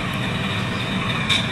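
A Tsunami FDL-16 sound-equipped model locomotive backing up, giving a steady diesel engine drone with a faint hiss and a brief brighter tone near the end, no voices.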